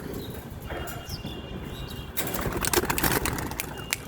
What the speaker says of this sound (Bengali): এই যে উড়ে গেল বন্ধুরা তিনটে।